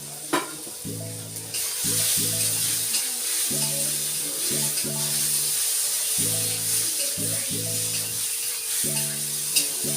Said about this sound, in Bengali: এবার আলুগুলো দিয়ে দেবো, দিয়ে আরো ভালো করে কষিয়ে নেব।